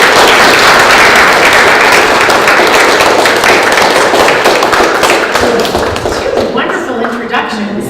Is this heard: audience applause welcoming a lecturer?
yes